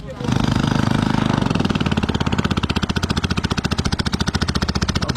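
A small boat engine starts and runs close by, loud and steady, with a rapid pulsing chug that settles into an even rhythm, its harsh rattle dominating throughout.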